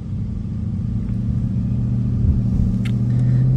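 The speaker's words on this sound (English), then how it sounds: "It sounds nice, not gonna lie. It does have the active exhaust." A 2022 Ford Mustang GT engine idles in sport mode with a deep, rumbling active exhaust drone, steady and close, building slightly toward the end.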